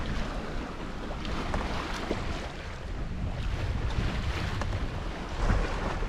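Sailboat running under head sail alone in about 15 knots of wind at just under 5 knots, offshore between the Canary and Cape Verde Islands; steady wind rush and wave wash continue throughout, with microphone buffeting and no voices.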